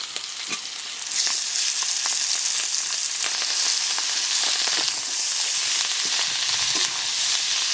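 Washed greens go into a pan where shrimp is already frying, and a quieter sizzle with scattered pops swells into a loud, dense, steady hiss after about a second, close and continuous, with no talking.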